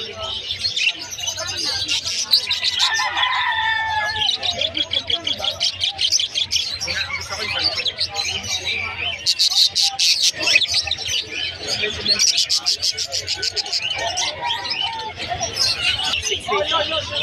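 A flock of parakeets, including yellow-face green and white-face blue birds in a pet bird shop, chirps and tweets continuously and close by, with talk and background chatter among the calls.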